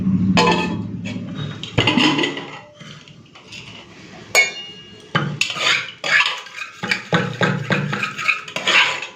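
A lid goes onto a cooking pot of dal, giving a series of metallic clanks, knocks and rattles of cookware at close range, irregular and fairly loud against a quiet background.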